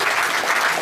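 Audience applause at a Hanuman Katha gathering, clapping to mark a couple's wedding anniversary; a brief, steady wash of many hands clapping together at moderate loudness, with no voices over it.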